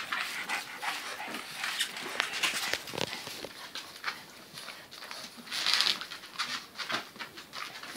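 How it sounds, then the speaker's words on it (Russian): Dog noises indoors, with panting, soft patter and scattered short yelps or barks spread across the clip at moderate level, and no talking. "мы не лаем в доме."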